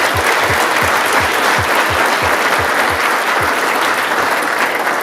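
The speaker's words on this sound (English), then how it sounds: "And so I think that in and of itself deserves a round of applause." An audience at a defense design competition finals applauds steadily, a dense, loud wash of clapping that continues throughout.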